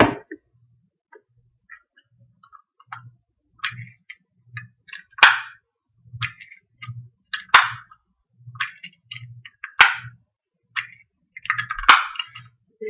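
Sharp clicks and taps from a sewing kit case being handled up close, scattered irregularly over soft low thumps, with no talking.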